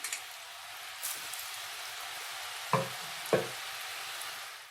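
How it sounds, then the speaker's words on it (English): Murukku dough frying in hot oil in a home kitchen, a steady soft sizzle throughout with a few brief louder knocks or clatters from utensils. "Fry this nicely for a few minutes."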